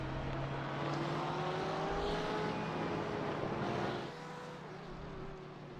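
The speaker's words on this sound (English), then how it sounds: "there we have some beautiful engines coming through the speakers there for you" Race car engines in the iRacing simulator at Interlagos, a loud sustained roar with rising pitch sweeps as cars pass and accelerate, fading slightly near the end.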